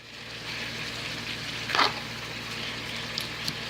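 Green pepper, onions and ground turkey sizzle steadily in a pan, a soft, continuous frying hiss with a brief louder stir or scrape partway through, close and fairly quiet.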